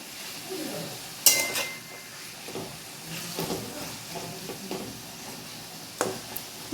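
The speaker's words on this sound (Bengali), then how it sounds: "এই যে পেঁয়াজগুলো ভাজছি।" Onions fry in a pan for a chicken dish, giving a steady sizzle with repeated sharp clinks and scrapes of a utensil stirring against the pan, close and fairly loud, without talking.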